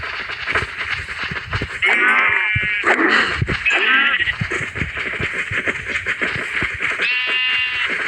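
Sheep in the Minecraft video game bleat several times in close succession, loud and near, over busy background game sounds.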